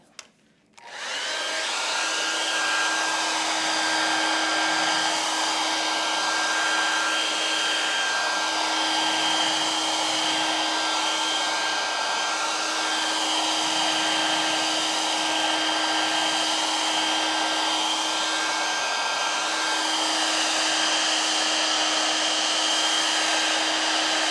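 A hair dryer blowing on wet paint on an artwork, switching on and then running loud and steady with a constant whine for the full length, no talking over it.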